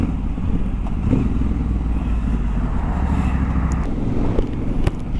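A Triumph Scrambler 1200 XE motorcycle rumbles steadily while being ridden, its loud, low engine note holding throughout, with a slight shift in pitch partway and a few faint clatters.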